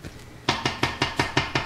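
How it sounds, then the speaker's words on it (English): A utensil stirs thick pumpkin butter in a cooking pot, making a steady series of about seven sharp knocks and scrapes, close and evenly spaced. "We'll stir that right in."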